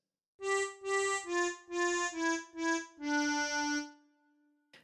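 Tremolo harmonica playing the opening phrase of Twinkle Twinkle Little Star, six short separate notes followed by one longer held note, clear, close and reedy, with no voice.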